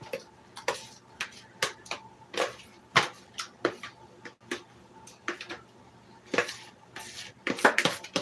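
A utensil scrapes and taps against a cooking pan holding grapeseed oil, giving irregular close clicks and scrapes spread across several seconds with no talk.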